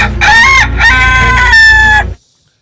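A rooster crows loudly and close by, a single drawn-out cock-a-doodle-doo in several rising and falling segments that cuts off abruptly.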